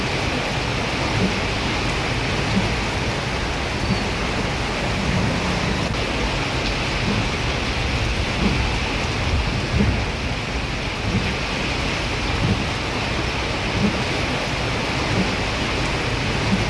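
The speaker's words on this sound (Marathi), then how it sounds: "नरेसा भागात पावसाचो कायम जोर असोच आसा अशी बातमी मेळ्ळा." Heavy monsoon rain pours steadily in a dense, even hiss with low rumbling of thunder beneath it, continuous and close, with no voices.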